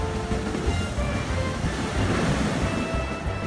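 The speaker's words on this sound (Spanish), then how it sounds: "Cuando pasen estas super olas que hay ahora," Large ocean waves surge over a coastal road in a continuous loud wash of broadband roar and rushing water, unbroken throughout with no talk.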